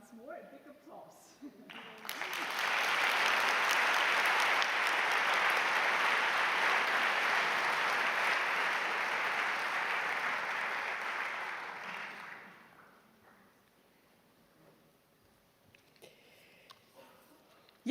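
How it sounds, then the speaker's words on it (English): A large audience at a university academic celebration breaks into sustained, loud applause, steady for about ten seconds before fading out, with a few faint sounds in the quiet afterward. "Once more, a big applause."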